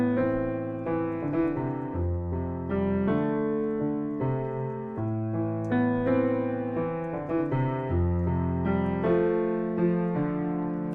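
Solo piano plays a song, a bass line in the left hand under chords in the right, steady and close for the whole stretch with no talking.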